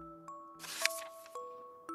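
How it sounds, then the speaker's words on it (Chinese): A telephone ringing in a children's bedtime story, heard as short repeated electronic ring tones with a brief rustling burst in the middle, fairly quiet. "这里电话铃声响了，到底是谁打电话过来啦？"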